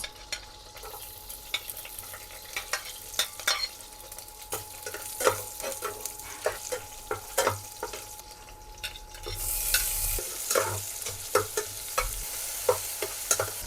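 Garlic and onion frying in a pan, with frequent spatula clinks and scrapes over a steady sizzle throughout and no talking.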